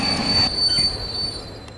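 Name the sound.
train wheels squealing after emergency chain pulled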